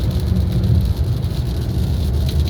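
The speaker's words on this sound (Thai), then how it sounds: "อ้าฝนตกแล้วครับผม" Rain falls steadily on a moving car, a dense, loud hiss of drops over the low rumble of the road, with no breaks and no voices.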